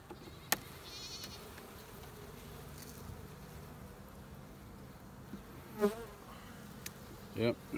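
Honey bees at a hive in early December make a faint, steady buzz under quiet outdoor background noise, with a few louder buzzes as single bees pass close by.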